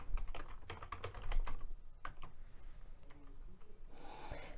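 Typing on a computer keyboard to enter a search: a quick, close run of light plastic key clicks. A short pause follows, then a soft rub or shuffle at the end, with no voices.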